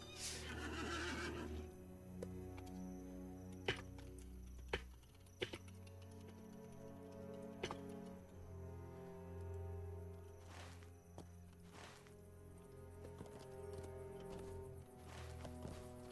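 War steed horse in the LOTRO video game neighs loudly near the start, then hooves clip-clop intermittently with soft game ambience and a few sharp clicks.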